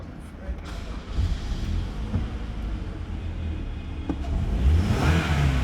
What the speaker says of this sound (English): I accelerate the vehicle,